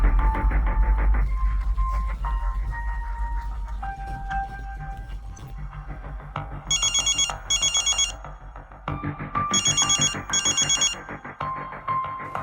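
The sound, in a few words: telephone ringing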